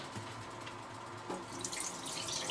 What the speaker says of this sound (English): So just rinse the rice a few times to get rid of the starches